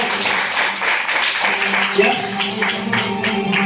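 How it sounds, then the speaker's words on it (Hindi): Audience at a speech event in Malda claps steadily, a dense wash of applause with a few voices and background tones mixed in throughout. "एक बार उनके लिए दिल की गहराइयों से जोरदार ताली कर सकते हैं।"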